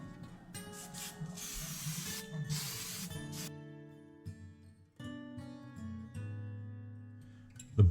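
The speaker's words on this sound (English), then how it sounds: "I'm going to go ahead and paint this bottom of the mount black" Short hissing bursts of spray paint coat the bottom of a snow globe mount black, several quick sprays in the first few seconds, followed by quieter tonal background sound.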